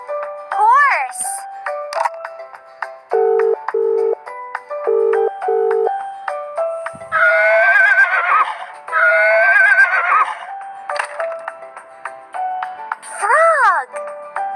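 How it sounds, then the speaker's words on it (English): A cartoon horse neighs with two long, shaky whinnies in the middle, surrounded by bright jingle tones from a children's animal-names song. "Horse!"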